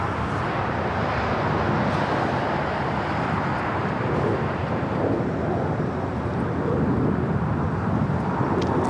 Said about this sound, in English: Have another United 757, this time a 300 series, heading to Denver, flight 1260. Going to be taking off here shortly.